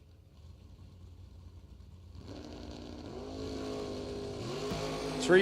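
Race cars, including a Corvette Roadster, pulling away from a green-light start at a short-track event: engines build from a low idle rumble into a rising, layered roar of revving and acceleration that grows louder toward the end.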